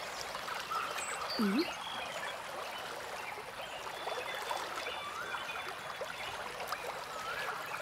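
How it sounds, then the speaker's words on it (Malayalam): A small stream flowing, a faint, steady trickle and babble of water, with a brief low croaking call near the start. "ഈ തോട് എവിടെ നിന്നായിരിക്കും വരണേ"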